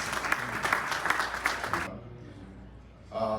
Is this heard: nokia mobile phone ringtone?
no